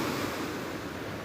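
Sea waves wash onto a beach by rocks where people fish, a steady broadband surf roar with some wind buffeting, continuous and fairly loud with no talk.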